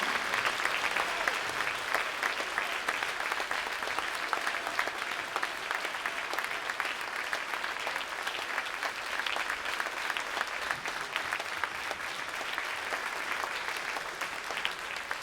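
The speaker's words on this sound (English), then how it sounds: "let's give our 8th graders a round of applause" A school spring concert audience gives a long, sustained round of applause for the 8th graders, a dense, even crackle of many hands clapping that holds steady throughout.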